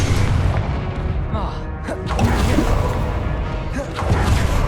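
A fire-blasting Confringo spell explodes in the Hogwarts Legacy game, heavy booming bursts and crashes layered with whooshes and combat effects in a loud, dense mix, with a voice calling out spell names over it.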